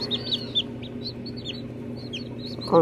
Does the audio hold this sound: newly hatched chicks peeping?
yes